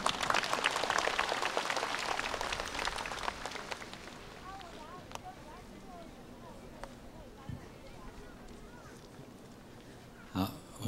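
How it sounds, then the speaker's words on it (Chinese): Applause from a gathering at Fo Guang Shan welcomes Kaohsiung's deputy mayor Li Yongde. A burst of clapping starts loud and fades away over a few seconds, followed by quieter room sounds and a faint voice. "请掌声欢迎"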